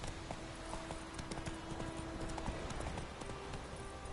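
Hoofbeats of a horse galloping in The Witcher 3, a steady rapid clip-clop running throughout over a busy game soundscape with faint background tones.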